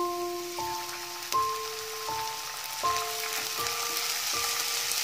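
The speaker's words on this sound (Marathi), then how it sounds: "कांदा चांगला परतून साधारण लालसर झाला की त्यामध्ये 1 चिरलेला टोमॅटो टाकू।" Chopped onion and tomato sizzle steadily in a pan, a constant hiss of frying running under a soft melodic tune with sustained notes.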